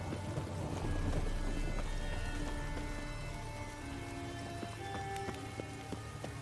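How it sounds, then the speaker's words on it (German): Rain in the video game The Witcher 3: Hearts of Stone, a steady soft patter and hiss of falling rain holding evenly throughout, with faint tonal game music drifting underneath. "Es regnet, natürlich ist es da feucht."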